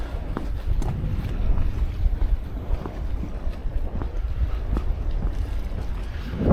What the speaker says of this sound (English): I can feel the wind right in my face.